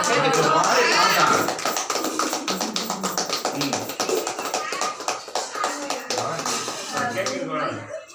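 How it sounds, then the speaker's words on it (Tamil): Children clap their hands at a charity food-donation event for the poor run by an elderly-care trust, a dense burst of overlapping claps that keeps going and then thins out, with voices mixed in. "பாப்பா எல்லாம் கிளாப் பண்ணுங்க, கிளாப் பண்ணுங்க"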